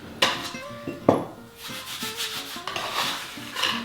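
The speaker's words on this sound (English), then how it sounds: "So what you need to do now is just move it using your dough scraper" A dough scraper shifts sourdough bread dough across a kitchen counter, giving a series of close scraping rubs and soft thuds in an irregular rhythm, over faint background tones.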